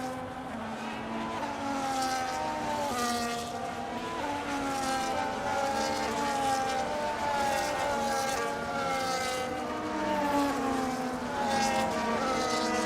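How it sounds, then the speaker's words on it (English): Several race cars in the F1 25 racing game rev and do burnouts on the Bahrain grid, a steady layered whine of engines with shifting pitches and faint tire noise running throughout at moderate loudness. "And burnouts galore as Papa Green gets ready to take provisional"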